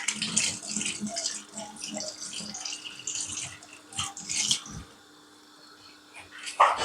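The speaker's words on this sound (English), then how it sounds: "I'm going to wash this fish" Tap water runs and splashes steadily while fish is washed for oha soup, with a brief quieter stretch before a final louder splash.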